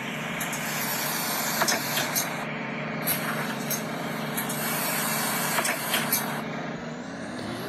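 Continuous loud engine hum of an Enviro 200MMC bus in a Roblox game, cut by several sharp hissing air-brake releases at intervals, with no talk.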